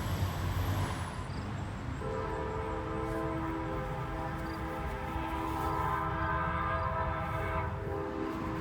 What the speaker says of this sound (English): as the train is blowing its horn in the distance